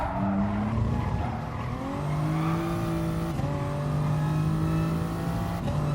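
Race cars including a Porsche roaring around a circuit in GT Sport, a loud, continuous engine whine shifting pitch through gear changes, with tire squeal and other cars close by.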